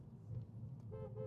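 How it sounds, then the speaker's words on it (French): A single short car horn toot sounds near a roundabout during a drive in a Mercedes E350 V6 Biturbo Diesel, coming in the last third of a second over a low road rumble. "la klaxon."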